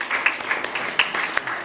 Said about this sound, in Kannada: ಜೋರಾಗಿ ಒಂದು ಸರಿ ಚಪ್ಪಾಳೆ ತಟ್ಟಿ